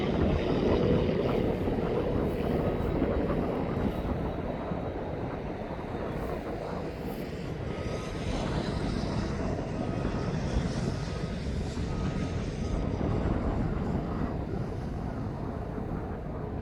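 A police propeller plane approaches East Midlands Airport, its steady engine drone filling the air continuously with broadband roar and some wind buffeting on the microphone.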